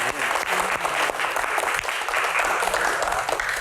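Studio audience applause during a televised Q&A show, a dense, continuous roar of clapping from many people, loud and close throughout with no speech over it.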